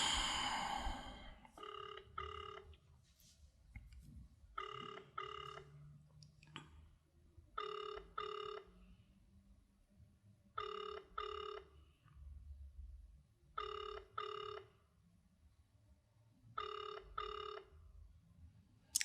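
A telephone rings in repeated double bursts, about six cycles evenly spaced, clear and moderately loud over a low background hum, with no talk.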